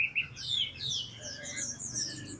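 A pet long-tailed songbird sings up close: quick, bright, high twittering phrases in several bursts, alone and clear against a faint low background hum.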